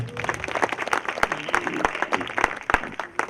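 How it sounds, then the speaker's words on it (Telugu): A church congregation at a Christmas service claps together in a steady, dense round of applause that fills the room, with scattered sharper claps standing out near the microphone. "ఒక్కసారి చప్పట్లు కొడదామా."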